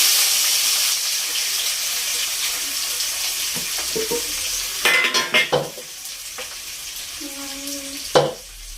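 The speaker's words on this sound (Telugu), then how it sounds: "ఇప్పుడు దొండకాయ ఉల్లిపాయ వేస్తున్నాను" Ivy gourd and onion fry in a pan, giving a steady close sizzle with bursts of scraping and stirring clatter from the pan midway, and no talk.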